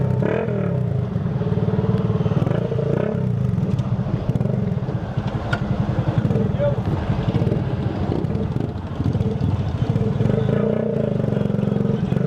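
A motorcycle runs on the street with a steady, loud engine drone for the whole stretch, close to the microphone, with wind buffeting and clatter mixed in.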